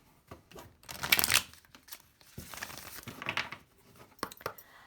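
Cards for a reading are shuffled close by in quiet, irregular bursts of riffling, flicking and papery rustling, with one louder burst near the start.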